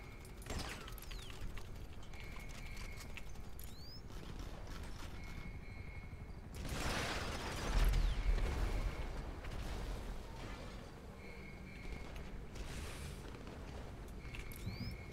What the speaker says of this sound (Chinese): 就说你的那个枪声怎么那么大声？